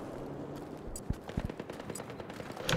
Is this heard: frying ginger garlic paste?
no